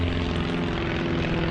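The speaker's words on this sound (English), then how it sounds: "so we got airplanes flying over" A propeller airplane passes overhead near an airport by an abandoned canal trail, giving a continuous loud drone with steady low engine tones throughout, no voices.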